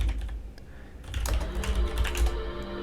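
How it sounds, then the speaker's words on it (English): A PL/I program is typed into a 1988 VM/IS system on a computer keyboard, a run of brisk, clattering keystrokes close by that thickens after a short lull, with no speech. "So let me type that in."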